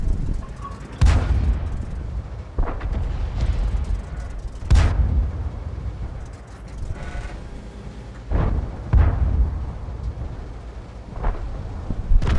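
Tank cannon shots in the World of Tanks game from an AMX M4 mle. 45 firing HEAT rounds, several deep booming blasts spaced a few seconds apart over a steady engine rumble, some farther off and some close and loud.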